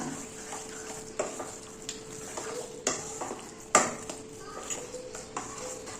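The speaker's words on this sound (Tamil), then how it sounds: "இப்போ அதையும் நல்லா மிக்ஸ் பண்ணி விட்டுருங்க" Curd rice being stirred in a vessel after a little boiled, cooled milk is poured in, giving soft wet mixing sounds with occasional faint spoon clinks against the pot, quiet and close.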